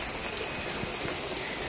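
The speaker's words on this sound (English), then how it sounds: "Rain is hot." Steady rain pours down outdoors on a hot summer day of about 85 degrees, a constant close hiss of drops hitting the ground with no voices.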